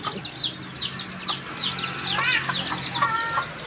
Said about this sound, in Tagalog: Yan yung mga manok ni Ray Ray